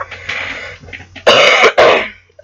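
Several harsh coughs and throat-clearing bursts, close and loud, following a stretch of low, muffled noise.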